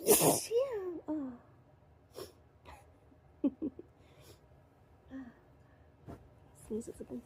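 A big, wet sneeze bursts out loud and close at the start, followed by sniffs, small gasps and breathy vocal sounds over the next several seconds.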